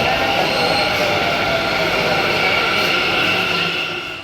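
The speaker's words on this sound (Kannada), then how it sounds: "ಇದು ನೋಡಿ, ಮೆಟ್ರೋ ಕೂಡ ಬಂತು." A Bangalore Green Line metro train pulls into the station with a broad, loud rushing rumble and faint squeal that holds steady and then eases slightly as it comes to a stop.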